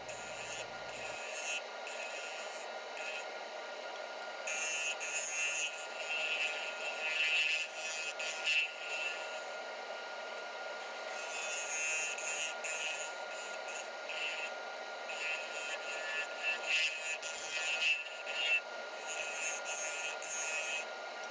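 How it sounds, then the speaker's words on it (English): Steady scraping and rasping of a carbide hand tool removing resin from a walnut plate, repeated strokes at close range over a faint background hum. "it doesn't take much to remove it with the carbide tool"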